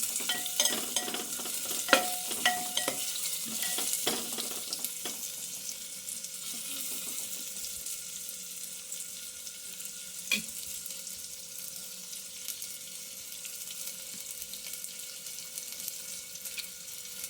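Curry leaves fry in hot oil in a clay pot, with a steady crackling sizzle and frequent scraping stirs, busiest early on and then settling into a quieter, continuous fry.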